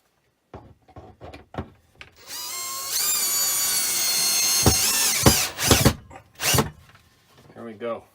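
A power drill drives a screw into a wall-mounted storage shelf, a sustained high whine lasting a couple of seconds, with clicks and knocks before it and bursts of close talk after.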